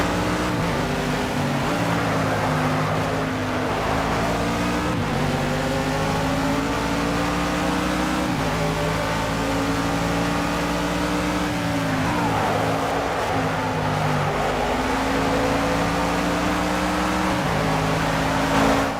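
GT3 race car engines roar in an online 24-hour circuit racing game, a steady loud drone with repeated rising revs and gear-shift dips as several cars run close together.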